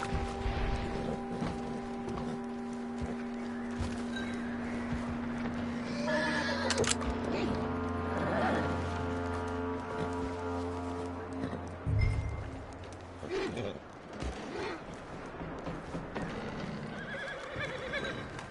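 A horse in the video game Red Dead Redemption 2 whinnies loudly and its hooves clop in rhythm, with a second neigh bursting out partway through over low ambient game sound.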